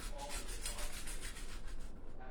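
Garlic cloves tumbling and rattling inside a garlic peeler, a steady dry rubbing, scraping noise heard close up that thins out near the end.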